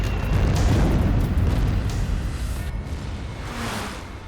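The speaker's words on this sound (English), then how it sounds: "The explosion rocks the Japanese submarine, damaging it and preventing it from diving beneath the surface." A 1,000-pound bomb explodes against a Japanese submarine in a wartime attack: one heavy, booming blast that rumbles loudly and then slowly fades over a few seconds, with no voices.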